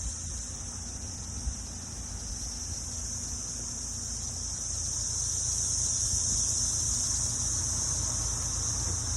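A dense chorus of 17-year cicadas makes a steady, high, shimmering buzz that holds throughout and grows slightly louder partway through, over faint low background rumble.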